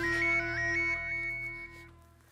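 A phone rings out with a short repeating electronic melody, loud at first and then fading away, with no talking over it.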